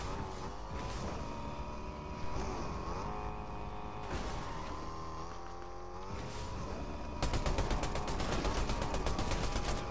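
A car driving in the video game Fortnite, with a continuous engine drone that shifts pitch as it accelerates. Mechanical clatter and what sounds like rapid gunfire join in toward the end, and no one talks.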